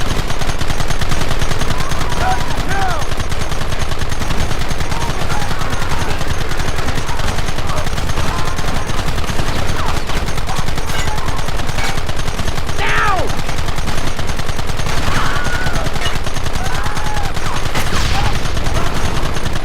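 Dense, continuous gunfire from many guns in a Red Dead Redemption battle, loud sustained volleys with overlapping shots and faint shouting voices woven through the din.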